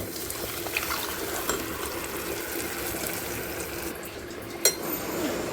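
Water added to a simmering Tamil fish curry (meen kuzhambu), giving a steady bubbling, sizzling liquid texture throughout with a brief louder splash near the end.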